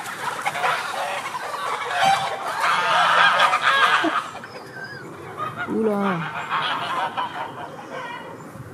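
Geese honk in short, harsh calls among hens and other farmyard fowl near Lake Geneva, with a person talking close by over the birds.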